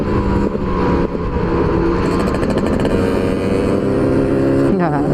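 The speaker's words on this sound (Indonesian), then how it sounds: "ciri khas knalpot Fish R ya." A motorcycle with a Fish R exhaust revs loudly and steadily up close, its exhaust roaring with rising pitch and a throaty rasp throughout.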